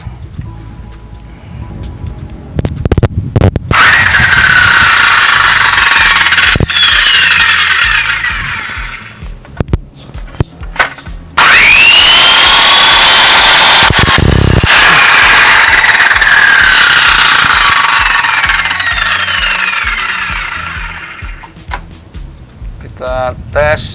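An Orion circular saw spins up for an RPM test with a loud, high whine, winds down, then runs again at full speed before coasting to a stop, with brief bumps and handling noise between runs.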